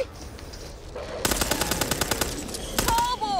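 Automatic gunfire in the video game Back 4 Blood, a rapid burst of evenly spaced loud shots lasting about two seconds, followed by a second short burst, with game ambience underneath.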